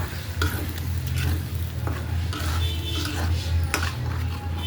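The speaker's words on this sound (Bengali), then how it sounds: "বেশ আবার মুরগিটা কষা হয়ে গেছে, আমি পাটের শাক যে ব্লেন্ডার করে রাখছি ওইটা দিয়ে দিলাম সম্পূর্ণটা" Chicken cooks in a pot with blended jute leaves added, a constant sizzle broken by several scraping stirs of a spoon against the pot.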